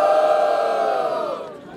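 Crowd at the Batalha do Coliseu, a Brazilian freestyle rap battle in Pernambuco, roaring, cheering and shouting loudly as one sustained wall of voices, fading slightly toward the end.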